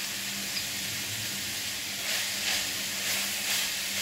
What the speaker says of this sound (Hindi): तो अच्छे से भूनना है बस